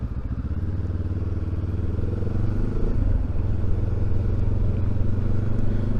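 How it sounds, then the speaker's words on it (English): Benelli TRK 702 motorcycle riding along, its engine and exhaust a steady, loud low rumble throughout with wind buffeting and no talk. "It's got a nice exhaust"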